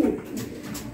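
A pigeon coos once, close and fairly loud, in a brief low murmuring call from a home pigeon loft.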